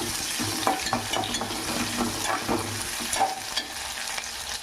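Onions and green chillies for a snake gourd fry sizzle steadily in a pan while a spoon stirs them with repeated scraping knocks, close and continuous, with no voices.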